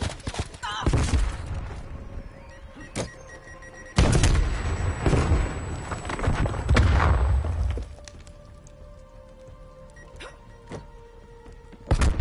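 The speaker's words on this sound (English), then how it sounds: "Throwing grenade." A grenade detonates in a PS4 shooter, giving a loud sudden boom that decays over several seconds; a second blast-like burst comes earlier, with a quieter gameplay ambience between them.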